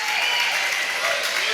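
A church congregation applauds in a brief, dense wash of clapping with crowd noise during a worship service, steady and loud throughout.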